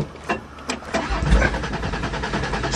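An old van engine cranks with a few sputtering turns, then catches and fires up into a rough, steady idle, close by and fairly loud.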